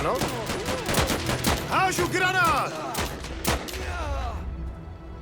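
Gunfire and artillery crack in rapid, uneven bursts during a battle in the video game Last Train Home, loud sharp shots and booms layered with a tonal, sweeping music-like sound, before easing toward quiet.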